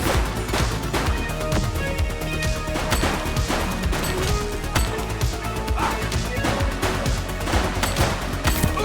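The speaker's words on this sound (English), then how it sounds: "Shots fired!" Police shootout gunfire in The Precinct, a dense, loud barrage of repeated gunshots and crashing impacts running steadily throughout with no pauses.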